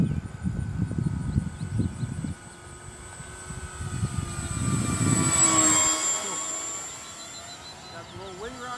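A Dynam B26 radio-controlled model bomber with a 1500mm wingspan drones through the air on its first flight, a steady electric whine that swells and fades in pitch, with someone talking underneath part of it.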